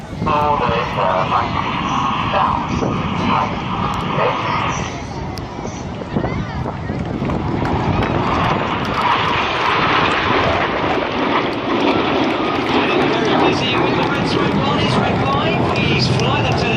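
A jet aircraft of an aerobatic display team flying a rolling manoeuvre around a box formation at an air show, a loud continuous broadband roar that swells and shifts throughout while an announcer talks over it.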